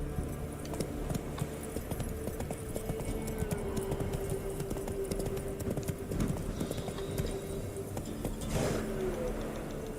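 Hooves of the horse Roach gallop in The Witcher 3 as a fast, steady clip-clop rhythm throughout, close and continuous, over low game ambience and a faint sustained tone.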